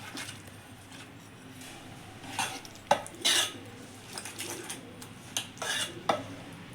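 Cooked moong dal being stirred with a metal spoon in a pot after salt is added, giving scattered scrapes and clinks against the metal, with a few sharper knocks standing out over a quiet background.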